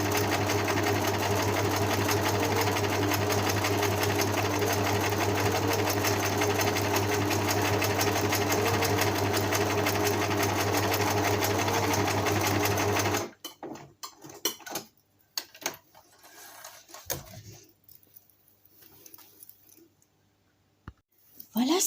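Sewing machine stitching a small zippered pouch, a steady rapid mechanical whir and needle clatter running loud and close for about thirteen seconds, then stopping into scattered handling clicks and fabric rustle.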